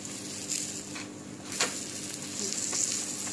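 Onion paratha frying in ghee on a flat pan, a soft steady sizzle with faint crackles and a brief scrape or pop partway through, no voices.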